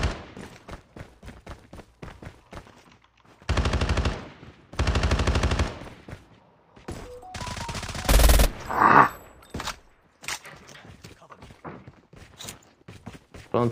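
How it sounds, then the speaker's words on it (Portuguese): Loud bursts of automatic gunfire from an M3 in a Call of Duty game, two long sustained volleys followed by shorter rapid shots and scattered thuds, no talking. "dei 90 tiros no carro com a M3"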